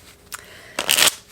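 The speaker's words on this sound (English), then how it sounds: "I shuffle really well." A deck of playing cards being shuffled during a tarot-style book draw game, heard as two quick riffling bursts, a short one followed by a longer, louder one, close up with no talk.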